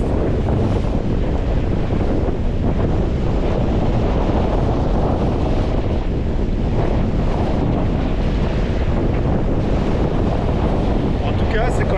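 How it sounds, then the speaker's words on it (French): Strong, steady 25-knot wind at sea roars across the microphone over the wash of waves and open water on an Atlantic sailing crossing, loud and continuous throughout. "c'est 25 nœuds de vent que j'ai de face à 45 degrés"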